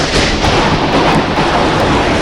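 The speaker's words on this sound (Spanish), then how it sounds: "15 segundos después escuchamos un estruendo" Thunder from an electrical storm rolls as a loud, continuous, broad rumble that fills the whole stretch without clear breaks, with no talking over it.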